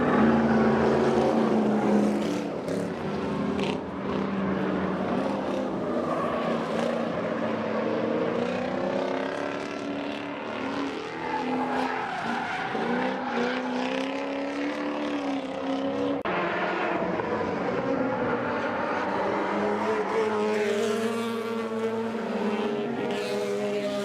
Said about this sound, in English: I think we all appreciate the sound of tires screeching